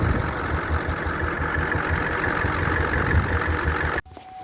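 A wrecker tow truck's engine idles with a steady, close, rumbling throb, then cuts off abruptly near the end.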